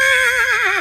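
A horse lets out a loud, close neigh, a brief quavering whinny with a wavering pitch, heard alone.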